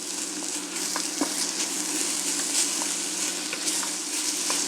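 Garlic, lemon juice, balsamic vinegar and spices sizzle in a hot pan as they are stirred, a steady close frying hiss with faint scraping of the utensil.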